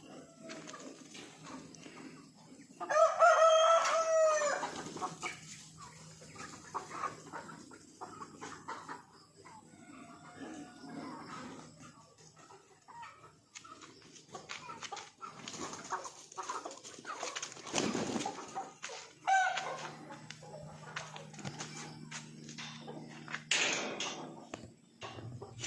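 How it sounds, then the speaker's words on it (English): Backyard chickens cluck and patter around while a cockerel crows loudly near the start and again later, mixed with scattered rustling and faint background voices. "cockerel chasing the chicken. Might have been attacking it."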